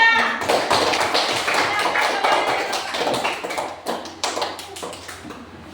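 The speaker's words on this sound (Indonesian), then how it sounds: "beri aplaus untuk kelompok 3" A classroom of students applauds a group after its presentation, with a dense run of close hand claps that thins out and grows uneven toward the end.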